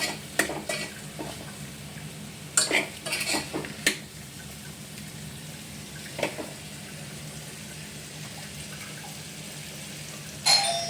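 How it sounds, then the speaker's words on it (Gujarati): Spice masala for a vegetable paratha shak sautés in a pressure cooker pan with a steady low sizzle, broken by sharp spoon scrapes and clinks in a few quick clusters and one late knock. No one talks. "અને મસાલાને સાતળશું"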